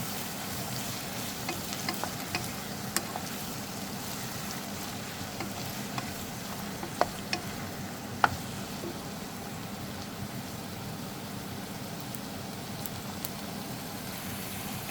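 Snake gourd stir-fry tossed in a pan, giving a soft, even frying hiss throughout, fairly quiet and steady, with a few faint spatula taps scattered through.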